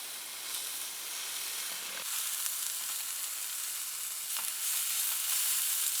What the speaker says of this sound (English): We're gonna get these steaks cooked up and maybe cut up